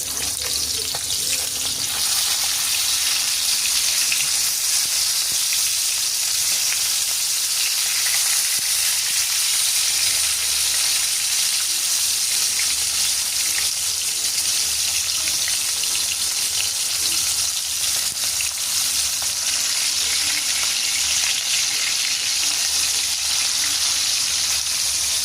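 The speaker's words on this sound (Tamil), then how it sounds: "இனி மீனை போடுவோம் பொரிக்க" Vaaval fish fries in a pan for a Jaffna-style fish fry, with a loud, continuous close sizzle and crackle that holds steady throughout, with no talking.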